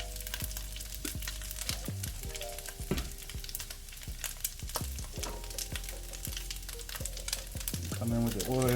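Egg frying in oil in a pan for fried rice made from leftover rice, with a steady, fairly loud sizzle and repeated sharp clanks and scrapes of a utensil stirring against the pan throughout.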